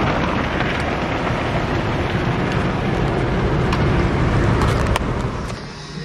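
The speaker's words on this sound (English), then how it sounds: "We're in the car wash now." An automatic car wash works over a car from inside the vehicle, a loud, dense roar of spraying water drumming on the body with occasional sharper hits, steady throughout and easing slightly at the end.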